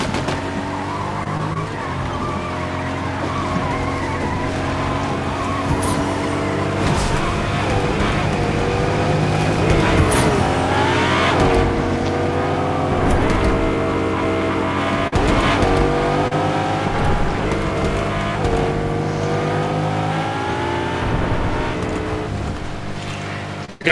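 Cars driving with engine drone and tire skids in a Fortnite Zero Build squads match, a loud continuous vehicle sound with squealing swells throughout, mixed with game music.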